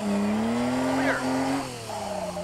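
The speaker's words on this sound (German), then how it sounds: "Also jetzt sehen wir hier volle Leistung beim Porsche, glaube ich." A Porsche drift car at full power in a drift competition: a loud, high-pitched engine held at high revs, then dropping in pitch as the tires squeal through the slide.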